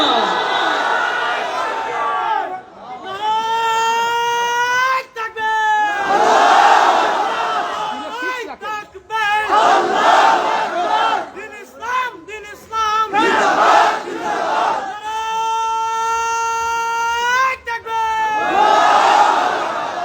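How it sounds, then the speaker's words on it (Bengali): A large crowd at a live religious gathering with ghazal singing shouts the takbir, Allahu Akbar, in loud repeated unison calls. A leader's voice prompts each round, and the calls come in rhythmic waves, close and strong. "কারা কারা তাকবীর ধ্বনি তুলে আল্লাহকে শোনা।"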